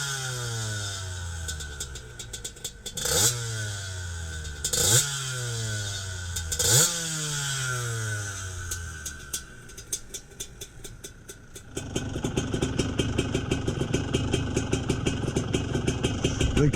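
GasGas motorcycle engine after a carburetor adjustment, revved in repeated rising bursts that drop back, then settling into a steady, rougher running note, close and loud.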